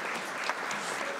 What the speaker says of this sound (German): Einen großen Applaus für dich